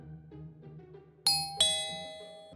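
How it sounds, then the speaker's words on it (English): A two-tone ding-dong doorbell rings clearly, two bright chimes in quick succession over a quiet, low background murmur, the second chime ringing out and fading slowly. "The sound of the doorbell interrupted my increasingly spiraling thoughts."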